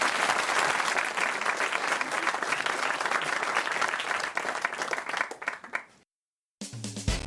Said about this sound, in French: Vous avez vu, Pierre, comme le public applaudit Jean-Philippe à chaque fois, c'est incroyable.